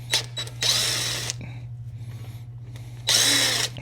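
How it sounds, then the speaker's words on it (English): A power tool with a Torx bit removing hub bolts on a 2005-or-later Dana 60 axle, two loud close whirring bursts with a quieter ratcheting stretch between them and no talk. "a Torx bit to remove these 3 bolts on your hub right here"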